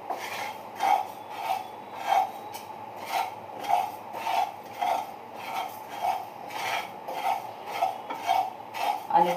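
Finger millet and rice dry roasted in a pan with no oil or ghee, stirred in a steady rhythm of scraping, rasping strokes about every half second, close and continuous with no talk.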